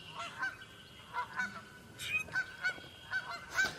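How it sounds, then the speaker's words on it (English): Trumpeter swans in a northern Ohio marsh give repeated loud, brassy honks in an irregular series, several calls overlapping at close range against faint outdoor background. "And here's our resident swans."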